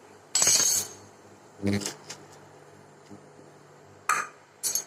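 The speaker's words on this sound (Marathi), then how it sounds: "आता ह्याच्यामध्ये ना साबुदाणा टाकते" Sago pearls pour into a metal pot of boiling water in a brief rattling burst, followed by a few spoon clinks against the pot.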